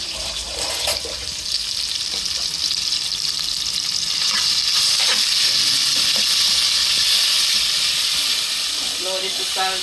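Oil sizzles and hisses in a pan while frying for Jamaican curried shrimp cooked in coconut juice, a steady crackling hiss with a few sharper pops and clatters, heard up close.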